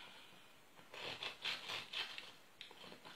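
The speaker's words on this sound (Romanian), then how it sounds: "Ia să mai tai o felie." A knife sawing through a warm slice of two-colour fasting cozonac sweet bread: several soft, rasping strokes back and forth, close but faint, with no speech.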